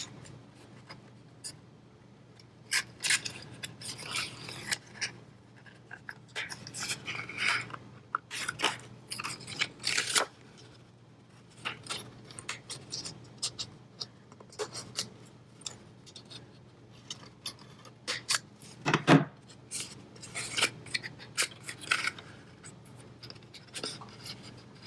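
Quiet, close snipping and paper rustling come from scissors cutting paper for a landscape paper lantern, with irregular small clicks and crinkles throughout and no talking.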